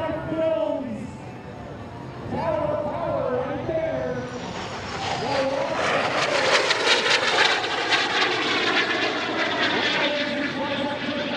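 Patriots Jet Team jets roaring through an airshow routine in Salinas, California, their engine noise swelling and sweeping past overhead while an announcer talks over the sound system throughout.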